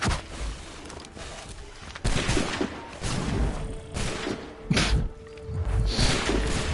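A gun firing in Assassin's Creed 3, one of several heavy booms and thuds scattered through a dense, noisy combat scene, loud and close, with no talking over it.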